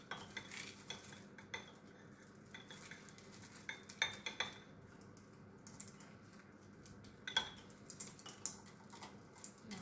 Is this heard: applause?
no